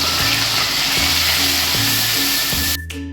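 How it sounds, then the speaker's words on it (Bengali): Grated onion paste sizzling in hot oil in a wok, a loud, steady broadband frying hiss with low thumps recurring about once a second, cutting off sharply near the end. "এবার হচ্ছে এই পেঁয়াজ বাটাটা এর মধ্যে দিয়ে দেবো"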